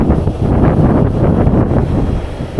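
Strong southerly wind buffeting a microphone outdoors during drone fishing, a loud continuous low rumble with gusty surges and no talk.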